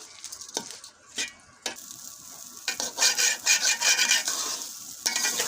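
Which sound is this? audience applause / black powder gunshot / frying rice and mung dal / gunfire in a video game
frying rice and mung dal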